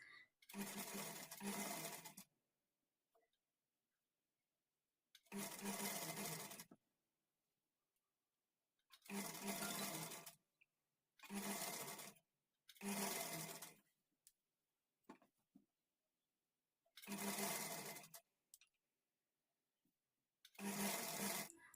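A sewing machine stitches a hemming strip on a lined blouse in about seven separate bursts of rapid, close whirring, each lasting a second or two, with near silence between runs.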